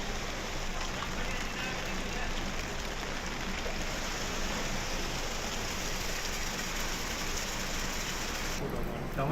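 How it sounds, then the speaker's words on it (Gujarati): Heavy monsoon downpour in Dahod district, Gujarat, with water running over the roads. It makes a dense, steady hiss that stays constant for the whole stretch. "દાહોદ જિલ્લામાં ધોધમાર વરસાદ વરસ્યો"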